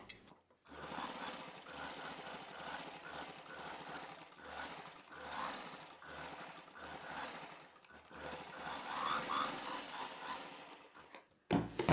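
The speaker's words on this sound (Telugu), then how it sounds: "ఇప్పుడు ఈ నెక్కి చుట్టూ ఒక కుట్టు వేసేసుకోవాలి" A sewing machine runs a line of stitches around the neck of a cotton frock, a continuous close mechanical whir with slight pulsing that carries for most of the stretch before stopping near the end.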